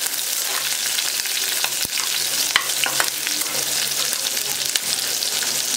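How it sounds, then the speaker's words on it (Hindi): Finely chopped onion frying in a pan for a Bihari-style jackfruit curry, a steady close sizzle and crackle running throughout with a few sharp clicks of a spatula against the pan. "इसमें हम बारीक कटा प्याज डाल देंगे, और इसको थोड़ा फ्राई कर लेंगे गोल्डन ब्राउन होने तक"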